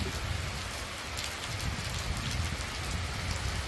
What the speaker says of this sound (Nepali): वर्षा भइरहेको छ, भारी वर्षा